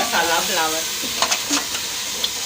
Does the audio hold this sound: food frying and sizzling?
yes